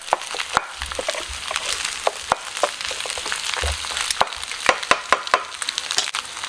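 Pork cracklings stir-fried with nearly set egg in a pan, crisp crackling sizzles and sharp pops scattered irregularly, with scraping spatula knocks, close and fairly loud.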